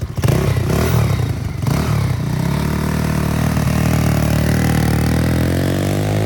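A 2018 Boom 125 lightweight sport motorcycle engine cranks on its electric starter and catches, then idles loud and close with a steady buzzing, slightly clattery single-cylinder note.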